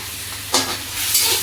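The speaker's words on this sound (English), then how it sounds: "as you see, we are just frying the chicken." Chicken browns in a kadai for butter chicken, giving a close, steady frying sizzle with a couple of brief, louder bursts as the pieces are stirred. No voices are heard.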